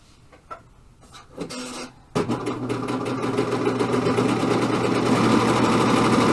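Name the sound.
serger sewing machine serging jacket fabric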